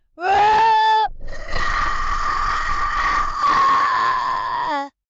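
A harsh, distorted electronic voice imitating a Wookiee lets out a long, warbling roar, like a creature's howl, after a short rising bleat-like cry; loud and close.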